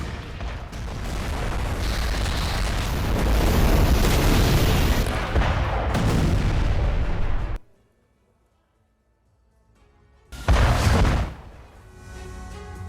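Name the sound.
explosions from Russian attack on Ukraine, news footage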